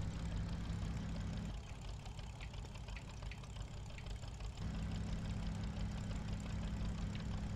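A tractor engine in a farming game labors steadily uphill, a loud, continuous low drone with a rough throb that dips slightly in the middle and then resumes at full strain.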